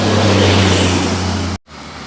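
Bintang Utara intercity bus arriving, a loud steady low diesel drone with a humming engine tone, close by, cutting off abruptly near the end.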